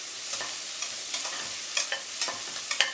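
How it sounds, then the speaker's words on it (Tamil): Ingredients for elephant foot yam soup sauté in a pan, a soft continuous sizzle broken by a few sharper stirring scrapes, close and alone. "இது ரொம்ப அப்படியே உங்களுக்கு பொன்னிறமாக வறுக்கணும்லாம் அவசியம் கிடையாது. ஓரளவு கொஞ்சம் வதங்கினா போதும்."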